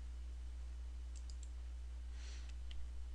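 A handful of faint, sharp computer mouse clicks, a short cluster and then a few more, heard over a low steady electrical hum during software work.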